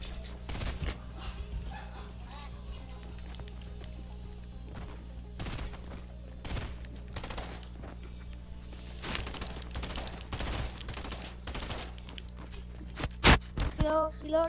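Gunfire in a horror shooter video game, heard as scattered sharp shots and short bursts at low volume, with quiet background noise between them.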